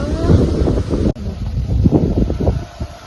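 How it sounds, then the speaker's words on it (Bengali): Strong wind ahead of a storm under heavy clouds at a house, gusty rumbling buffeting the microphone close and loud, cut by a sharp click partway through. "কি হাওয়া দেয়,"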